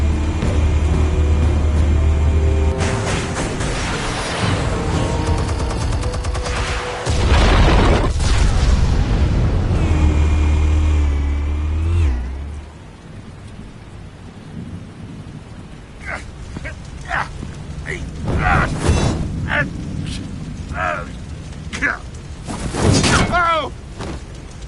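Explosives detonating in a Batman video game, heavy booming blasts that roll like thunder, several loud bursts in the first half, then fading into scattered smaller impacts.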